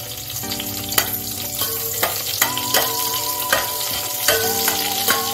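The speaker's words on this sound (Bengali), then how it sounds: "এটা শুকনো লঙ্কাটা একটু ভাজা ভাজা হবে" Dried red chillies fry in oil in a pan before rice and lentils go in for khichuri, a loud steady sizzle with a spatula scraping and tapping in a regular rhythm, close up and without talking.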